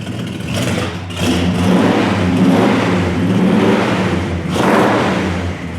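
A 1970 Plymouth GTX with a 440 V8 engine revving loudly up close, several throttle blips rising and falling over a deep rumbling idle.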